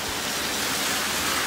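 Heavy rain pours during Typhoon Hagibis, a dense, steady hiss of downpour filling the scene without pause, close and loud, with no voices.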